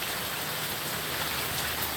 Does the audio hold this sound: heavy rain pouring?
yes